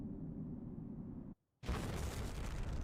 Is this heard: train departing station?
no